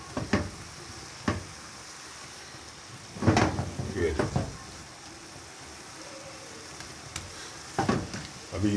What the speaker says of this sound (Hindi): इसको 3 से 4 मिनट में अच्छी तरह इसको भूनूंगा।